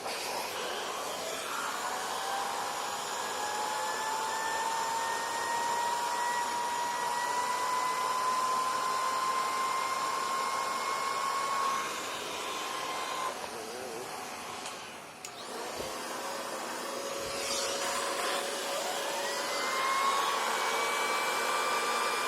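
An Electrolux Model L vacuum cleaner runs with a turbo nozzle attached, giving a steady high motor whine that holds for over twenty seconds, dips briefly midway and then returns, with no voices over it.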